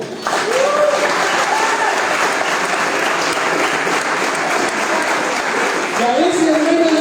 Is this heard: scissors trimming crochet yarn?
no